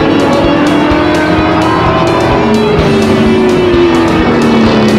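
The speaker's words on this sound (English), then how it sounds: "8 car of Ricky Williger goes around" Loud, steady engine roar from stock cars racing at Flamboro Speedway during a spin-out, with a sustained drone and faint tire squeal, no pauses throughout.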